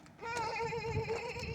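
A person mimics a mountain goat's call with one sustained, wavering nasal bleat lasting about a second and a half, loud and close, with no other voices during it.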